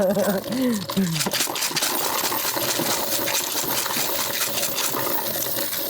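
Coins pour and rattle out of a jar in a dense, continuous metallic jingle, close and loud, with a brief voice at the start.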